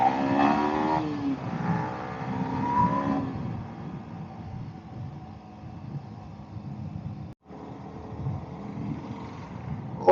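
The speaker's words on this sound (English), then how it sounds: "Oh man, that Bentley sounds crazy" A Bentley's engine revs on a road during a motorcycle ride, its harmonic roar rising loud at first, then settling into a lower rumble under steady road and wind noise.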